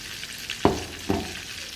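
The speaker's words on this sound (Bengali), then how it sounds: "এখন আমি মাছগুলো ভাজবো ভেজে নিব কাঁচা রান্না করব না এগুলো মশলা মাখিয়ে রেখেছি এখন ভাজবো সবগুলো" Spice-marinated fish pieces fry in a pan, a low steady sizzle with two sharp scraping or clattering knocks about half a second apart, close by and alone.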